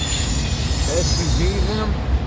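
A Conrail freight train hauling autorack cars loaded with SUVs rolls past up close, a steady rumbling roar with wheel squeals rising and falling over it.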